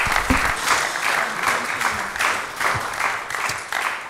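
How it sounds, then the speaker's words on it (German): Audience at a late night show applauds, dense clapping in several swelling waves that fill the room for a few seconds. "Einen großen Applaus"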